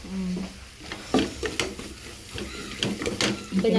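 Chicken frying in a pan in a home kitchen: a moderate sizzle broken by scraping and clattering stirring strokes, close by, with faint voices in the background.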